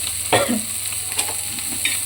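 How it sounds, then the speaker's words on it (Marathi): Scraping and stirring green chilli thecha chutney on a hot griddle, with soft sizzling and a few sharp utensil scrapes against the metal surface. "छान प्रकारे हे मिक्स करून हलवून घ्यायचं आहे"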